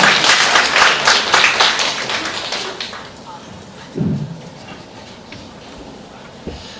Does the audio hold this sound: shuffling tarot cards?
no